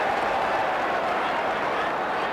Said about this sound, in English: And the crowd giving him the raspberry.